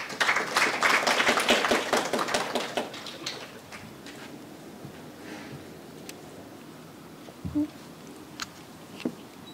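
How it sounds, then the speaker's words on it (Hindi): An audience at a multilingual mushaira breaks into dense, lively applause that rings out for a few seconds, then thins and fades into a quiet room, leaving only a few scattered claps and a soft thump. "आपकी भरपूर तालियां"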